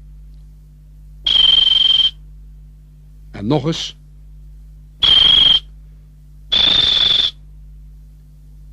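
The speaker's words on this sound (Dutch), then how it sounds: "Ik blaas op de fluit." Three sustained shrill whistle blasts, each about a second long, separated by pauses, with a brief spoken phrase between the first and second.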